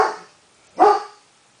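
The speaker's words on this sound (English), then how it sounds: "Yeah, that's my dog." A guard dog barks at a motorcycle repair shop: a fading bark at the start, then a single loud, sharp bark near the end, with no talk.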